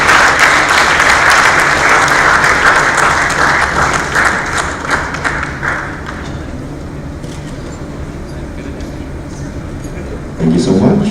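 A crowd claps loudly at a graduation ceremony in Dubai, with strong sustained applause in the first half that softens into a quieter, thinner patter, then swells briefly again at the end.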